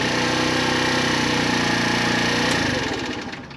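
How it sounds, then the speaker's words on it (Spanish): A Wolf Islander moped scooter engine idles close by with a steady buzzing, knocking putter, then winds down and fades as it is switched off near the end. "Vamos a apagar la moto."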